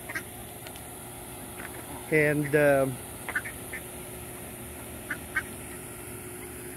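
Ducks at a park pond quack in a short loud burst of several calls, with a few fainter quacks afterward over quiet outdoor background; a person briefly speaks.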